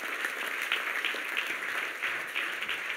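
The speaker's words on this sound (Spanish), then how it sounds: "Entonces le das aplauso" A church congregation claps together in a sustained, fairly even round of applause, heard at a moderate distance and fairly soft, with no speech over it.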